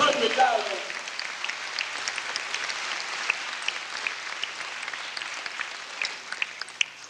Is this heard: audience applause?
yes